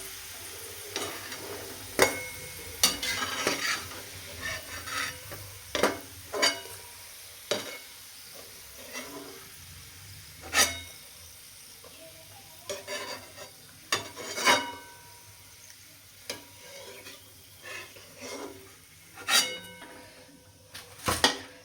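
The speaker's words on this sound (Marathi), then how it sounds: "लसूण एवढा तळायचा आहे, ह्याच्यापेक्षा खूप जास्त नाही तळायचं." Garlic fries in oil while a spatula stirs it around the pan, producing repeated scraping and clinking strokes over a soft background sizzle, close by and irregular in rhythm, with no one talking.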